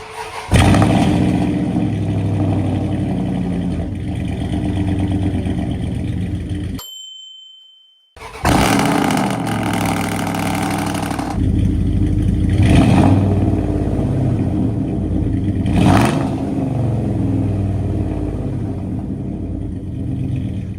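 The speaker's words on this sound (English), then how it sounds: "hopefully hear a much quieter," A 5.9L engine with newly fitted mufflers replacing straight pipes, a steady deep exhaust rumble that cuts out briefly, then restarts and idles with a couple of short revs.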